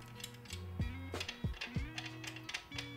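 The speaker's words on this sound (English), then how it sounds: "I'm going to spin this nut on." A Fuji style lock nut spun by hand onto the threaded chain adjuster of an off-road motorcycle, giving close, quiet metallic clicks and ratchety rattles in short repeated bursts.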